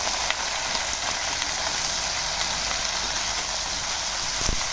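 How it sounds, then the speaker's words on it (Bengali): Taro stolons fry in oil with salt, turmeric and green chili, a dense continuous hiss of sizzling close by, even and unbroken throughout. "এবার এগুলোকে সব একসাথে মিশিয়ে নাড়াচাড়া করে লতিগুলো ভাজবো"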